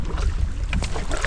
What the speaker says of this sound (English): Well, here we are paddling down the shore, Clearwater Lake.